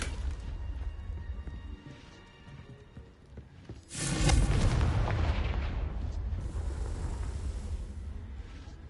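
In Hogwarts Legacy, a Confringo spell goes off as a sudden loud blast partway through, followed by a long, rumbling roar that carries on to the end.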